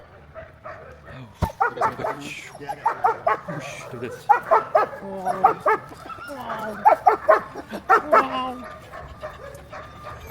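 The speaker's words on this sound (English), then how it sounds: "Why are you barking?" A dog on an Alaska trip yips, whimpers and barks in quick repeated bursts close by, mixed in with a person talking to it.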